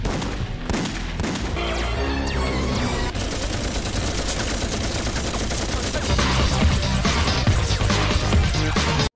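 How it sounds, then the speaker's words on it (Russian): Rapid sci-fi laser blasts stand in for automatic gunfire in a Sonic X cartoon dub, firing in dense, continuous bursts over a busy background soundtrack. "все звуки стрельбы были заменены на звуки лазеров, даже если стреляли из автоматов"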